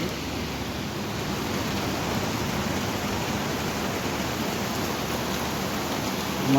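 Heavy morning rain pours down in a steady, dense, even hiss that does not let up, ending in a slightly louder burst.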